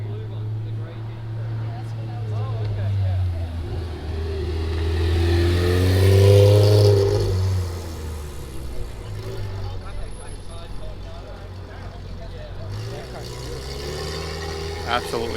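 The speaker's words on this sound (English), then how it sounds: "Nice Porsche rolling out." A Porsche revs as it rolls out of a Trunk or Treat car meet, its engine swelling to a loud peak midway and then easing off while people talk nearby.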